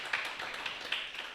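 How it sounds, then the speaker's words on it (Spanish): Light applause for a woman named Melba at a church service, a thin scattering of claps spread evenly through a short stretch, fairly quiet and a little distant. "un aplauso para Melba"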